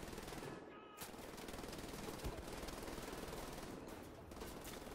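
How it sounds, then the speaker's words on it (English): A Gatling gun fires in a sustained, rapid burst in the video game Wolfenstein, a dense and relentless rattle with a brief dip near the start before it roars on. "Oh, you can prep the Gatling gun or whatever."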